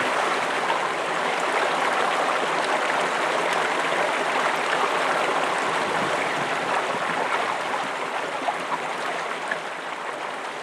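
A fast-moving mountain stream on the Mt Marcy trail near Lake Placid, New York, rushes in a steady, loud broadband roar that stays unchanged throughout, with no voices.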